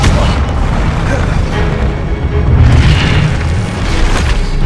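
A fire spell cast in the Hogwarts Legacy video game gives a loud, sustained whooshing roar with heavy low rumble, swelling again partway through and staying dense to the end.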